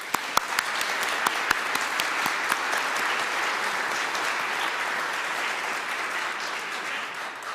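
Church congregation giving a sustained round of applause, a thick, even wash of many hands clapping with a few crisp claps standing out early, continuing steadily without talk.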